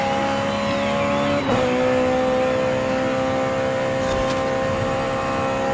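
Race cars in the video game Forza Horizon 5 during a Goliath race: a steady, loud engine drone with shifting pitch runs throughout, with a brief dip and revving transition early on.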